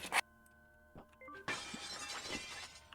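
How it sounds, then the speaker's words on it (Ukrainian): A plate falls and shatters in the horror game The Quiet One: a sharp crash of breaking crockery with scattered clinking fragments, loud and close, following a few soft tonal game sounds. "тарілка впала"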